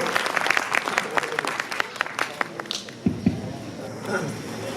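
Applause welcoming a speaker at the opening of a Christian ministry home in Dangapara, West Bengal: brisk, uneven clapping from a gathered crowd for about three seconds, then fading to quieter room sound with a couple of stray claps.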